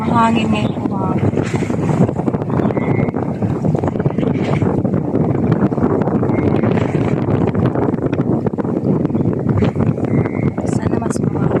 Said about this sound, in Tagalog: Mahangin ngayon umaga.